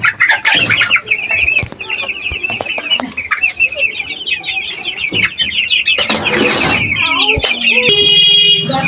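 Chickens in a poultry shed cluck and squawk loudly and constantly, many birds close by, with wing flaps and scuffling bursts throughout.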